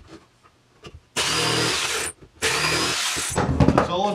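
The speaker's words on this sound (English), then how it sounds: "I'm just taking a jigsaw and I'm just going to cut a couple little triangles" A jigsaw cuts small triangular notches into wood for drain holes on a boat's dorade box, two loud sustained bursts of buzzing cutting separated by a brief pause, followed by lighter clattering handling noise.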